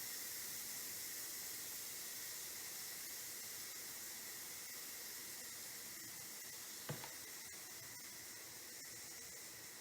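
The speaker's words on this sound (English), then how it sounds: "A lot of steam in there." A pressure cooker letting off steam while pasta cooks, a faint, steady high hiss that runs unbroken, with one brief soft knock partway through.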